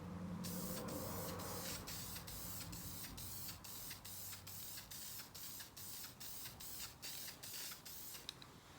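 A spray can lays a coat onto a vintage car emblem in a steady, close hiss, broken by a rapid series of short regular pulses as the nozzle is pressed in bursts.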